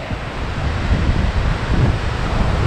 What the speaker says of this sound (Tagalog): So ito yung hampas ng alon ngayon dito.